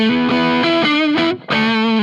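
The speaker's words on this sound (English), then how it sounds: "I'm already getting into the metal stuff." A Telecaster on the bridge pickup with tone fully up, through a Bugera JCM 900-style amp, rings out sustained chords with a thick, saturated metal tone, briefly cutting out before resuming.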